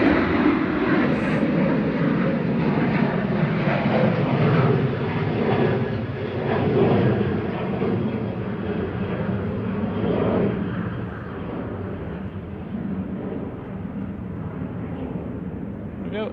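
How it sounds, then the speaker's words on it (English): Boeing 737-800 at Manchester Airport, a broad, steady jet engine roar held at a distance throughout and gradually fading, with people talking beneath it at times. "SPRKH flight 7860. Boeing 737-800 there."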